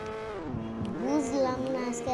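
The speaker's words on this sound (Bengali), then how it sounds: "সো এখন আমি বাইকে উঠে যাই" Game motorbike in Party Craft, a steady engine drone with rising and falling pitch as the ride gets under way, close and continuous, with faint game effects on top.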